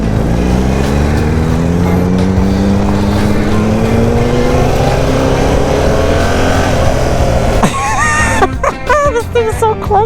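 Yamaha MT-09 motorcycle being ridden, its engine droning loud and close with a rising pitch as it accelerates, then sharper revving changes near the end, with wind rush throughout.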